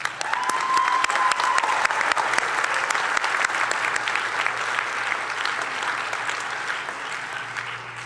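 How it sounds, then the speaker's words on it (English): A white coat ceremony audience gives a sustained round of applause, many hands clapping steadily and fairly loudly throughout, with a faint tone briefly audible early on. "Please join me in a round of applause."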